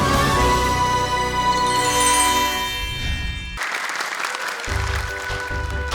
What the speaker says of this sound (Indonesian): tepuk tangan dong untuk Dewan Juri